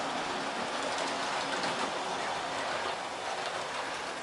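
A Hornby LMS Black 5 model locomotive runs around its track with a steady, close rushing rattle of small wheels over rail joints, continuous and fairly loud with no talk.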